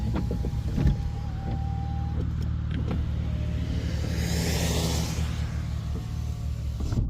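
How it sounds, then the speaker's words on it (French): Power windows of a 2006 BMW X3 E83 3.0i being reprogrammed after a dead battery, with whining electric window motors running in a few separate strokes over a low idling engine rumble inside the car. "je reprogramme les fenêtres"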